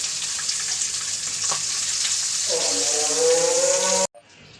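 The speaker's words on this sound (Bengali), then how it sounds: "তেলে জিরা দিয়ে দিলাম, তরকারিটা বসাই দিব। এই চুলের তরকারি, তেজপাতা দিলাম।" Cumin seeds and bay leaf sizzling in hot oil for a jackfruit and prawn curry, a steady close crackle with a rising whistle-like tone near the end, then an abrupt cutoff to near silence, no talking.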